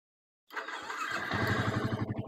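A Yamaha New Vixion motorcycle's electric starter engages with a whirring crank that catches into a close, steady rhythmic engine idle with low pulsing beats, heard alone and fairly loud.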